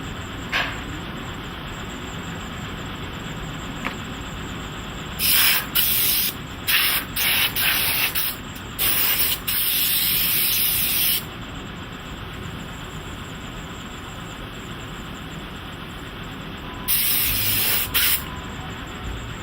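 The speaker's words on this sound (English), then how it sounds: "The molder constantly uses a compressed air nozzle to blow away loose sand." A compressed air nozzle blows loose sand off a green sand foundry mold in repeated loud hissing bursts of varying length. The bursts stand out over steady workshop background noise, close by and with no talk.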